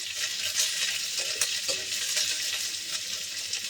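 Green chillies frying in hot oil in a pan while being stirred, a bright continuous sizzle with occasional sharper spatter pops and spoon scrapes, close and without any talk.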